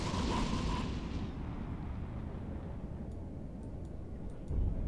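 Missiles fire and explode in the space game EVE Online: a loud rushing burst at the start that fades into a low rumbling roar, with faint ticking clicks and a final thump.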